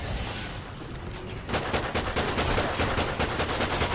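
Rapid gunfire with special shock ammo in Call of Duty Ghosts multiplayer, a dense, steady burst of shots starting abruptly partway through and continuing loudly after a quieter opening.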